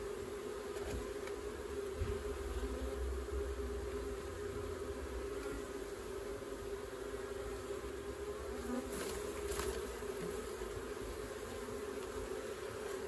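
Honey bees buzz steadily around brood frames during a mini nuc conversion, a dense continuous hum of many insects heard up close with occasional louder passes near the listener and no talking.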